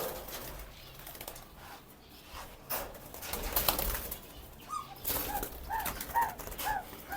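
Red-eyed albino zebra doves in aviary breeding cages give soft, low cooing calls and brief bursts of wing flapping over a quiet background hiss, with the coos gathering in short runs near the end.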